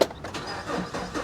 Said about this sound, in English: Let's fire it up. Let's see if she runs.